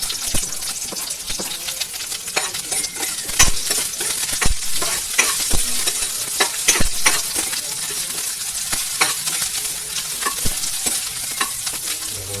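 Onions frying in hot oil for pork adobo, crackling and sizzling loudly and steadily, with frequent sharp spatula scrapes and clinks against the pan as they are stirred.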